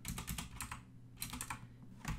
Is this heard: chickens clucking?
no